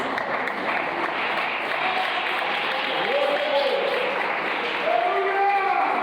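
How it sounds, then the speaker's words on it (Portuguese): A church congregation claps continuously at moderate volume during a worship service while voices sing or talk over the applause. "pode louvar o Senhor com palmas bem alegre para Jesus"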